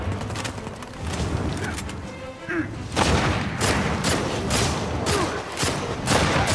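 Gunfire in the video game Uncharted 4 A Thief's End survival mode, a steady barrage of shots and booming impacts, loud and continuous, with a voice talking briefly amid the fighting.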